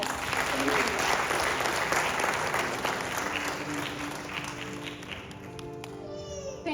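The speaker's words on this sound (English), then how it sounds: "Can we have a big round of applause?" A round of applause from the audience at a mentalism magic show: loud, full, continuous clapping that holds steady and then eases off slightly at the close.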